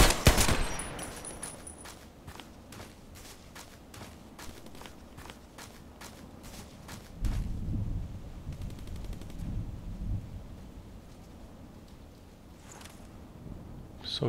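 Gunfire in the online shooter Contract Wars, a string of sharp shots rattling off in quick succession over the first half, then scattered distant pops amid low rumbling ambience and footstep-like thuds.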